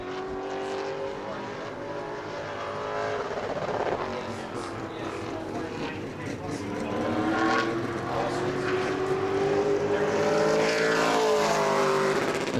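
Pro late model race car runs a qualifying lap at New Smyrna, its engine a loud sustained roar that rises and falls in pitch around the track, with a commentator talking over it.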